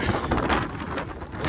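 Strong gusty wind buffets the microphone in an open field as a rain shower approaches, producing a loud, continuous roar with uneven surges.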